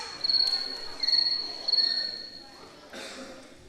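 Crickets chirp in steady high-pitched trills, with a few pulsing bursts over a soft background hiss.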